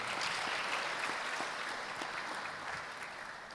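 Steady applause from a graduation ceremony crowd, a thick, even patter of many hands that tapers slightly at the close.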